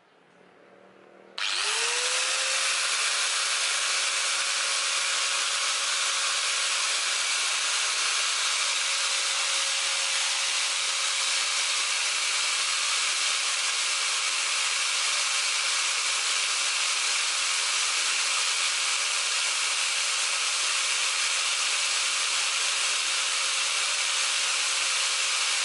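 A Stanley STGT5100 angle grinder switches on after a brief quiet moment and spins up to a loud, steady high-pitched whine that holds unchanged for over twenty seconds, running alone without load.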